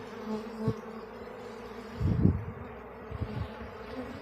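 Honey bees buzz at a beehive fitted with a pollen trap, a low steady droning hum with a few closer swells as bees pass near, quiet and continuous.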